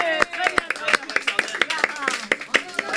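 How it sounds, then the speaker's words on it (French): A live audience at a French quiz show claps for a winner, fairly close and uneven, with distinct individual claps mixed with voices and chatter over the top. "Bravo, on l'applaudit."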